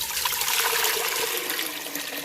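Eight cups of water are poured into a soup pot for butternut and acorn squash soup, making a continuous, close rushing splash that fades slightly at the end.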